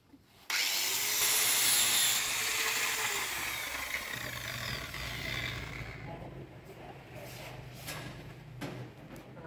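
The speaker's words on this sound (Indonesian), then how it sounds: "Jadi membersihkan ini dengan gerinda sikat." A wire brush grinder scours rust and paint off a metal welding workpiece, starting abruptly and running loud and continuous with a harsh, bright scraping whine that slowly eases in intensity.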